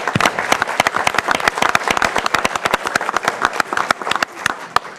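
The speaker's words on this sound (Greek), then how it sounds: "θέλω να τον υποδεχτείτε με ένα πάρα πολύ θερμό χειροκρότημα" A warm round of applause welcomes a dance teacher at a Greek Asia Minor cultural association event, crisp close claps in a fast dense patter, loud and continuous throughout.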